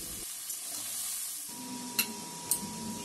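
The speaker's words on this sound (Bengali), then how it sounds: "এই লবণ আর হলুদ দিয়ে ঝিঙে গুলোকে আমি ভালো করে ভেজে নেব" Ridge gourd frying in oil with salt and turmeric, a steady close sizzle with a couple of sharp stirring clinks partway through, no talk.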